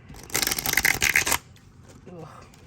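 A tarot deck being shuffled, one loud riffling burst of about a second, followed by quieter handling and a brief voice.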